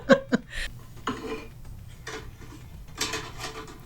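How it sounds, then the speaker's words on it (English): Pots and pans clank together as they are handled, a few sharp metallic knocks and clatters at the start, then softer scattered rattles and scrapes spread over several seconds. "Opening pots and pans."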